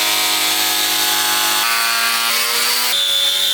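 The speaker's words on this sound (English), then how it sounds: "I first disassembled the parts, then I sanded the surface." Steady, loud abrasive hiss of a power sander working the wooden parts of a homemade fingerprint safe, continuous and close with slight shifts in pitch.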